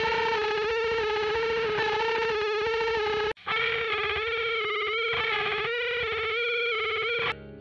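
Sustained distorted guitar chord through an Electro-Harmonix PolyChorus flanger/chorus pedal on full, washed in a sweeping, swirling modulation effect, loud and continuous, with a brief cut midway before it resumes.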